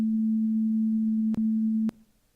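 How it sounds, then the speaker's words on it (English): A steady, pure synthesized sine wave tone holds at one pitch for about two seconds, broken by two brief clicks, then cuts off abruptly, leaving faint hiss. "that creates a sine wave that sounds something like this"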